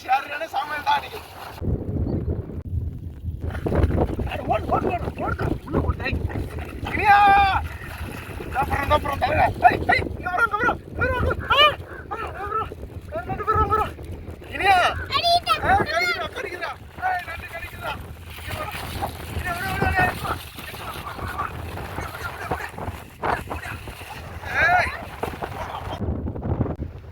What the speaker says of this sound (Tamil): காற்று பயங்கரமா இருக்கு